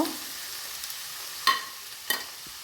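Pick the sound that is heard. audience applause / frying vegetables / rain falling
frying vegetables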